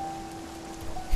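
Rain falls in the video game Spiritfarer, a soft, steady patter beneath a faint constant tone, with a low thump at the very end.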